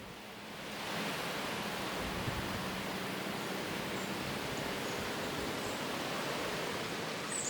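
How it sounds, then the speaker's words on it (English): Wind rushing through the trees at Big Bear Lake, a broad, steady hiss that swells in over the first second and then holds at an even level, with no voices. "I hear the wind through the trees"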